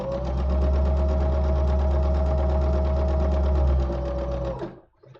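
A sewing machine runs a straight stitch through fabric sewn wrong sides together, humming steadily and loudly for about four and a half seconds before stopping abruptly.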